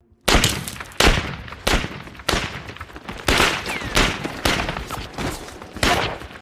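Intense gunfire in a war film as trapped, starving Allied soldiers are ambushed and shot, a rapid fusillade of loud, close shots and volleys crowding one another for several seconds.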